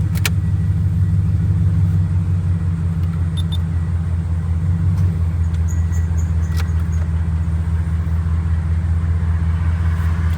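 A truck engine runs at idle with its fan disconnected, a loud steady low rumble and hum with a few faint clicks on top, and no talk.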